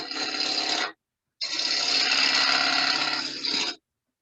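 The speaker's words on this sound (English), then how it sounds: "Cutting with the bevel, tool handle down, raising it up as I get to the top." Wood lathe turning the lid of a jewelry caddy, a bevel-riding tool scraping the spinning piece in a steady close rasp, broken by a short pause before a second, longer cut.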